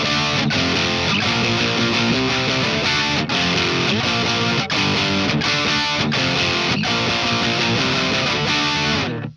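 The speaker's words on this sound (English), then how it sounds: "I'm going to use the Earthquaker Devices plumes to take the amp up into that sort of distortion territory" Electric guitar with a crunchy, distorted tone driven through an Earthquaker Devices Plumes overdrive pedal into an amp, played as a steady run of strummed chords with regular accents, loud and continuous for the whole stretch.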